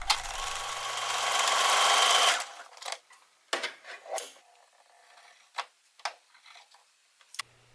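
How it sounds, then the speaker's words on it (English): A sewing machine stitches diagonally across the top of a fabric strap, a steady close whirring burst lasting about two seconds, followed by scattered clicks and small handling taps with no one talking. "Then I diagonally sew on the top of the strap"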